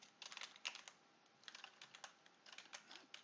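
Rapid, uneven typing on a computer keyboard during a coding session, close and fairly quiet, coming in short bursts of key clicks with brief pauses between them.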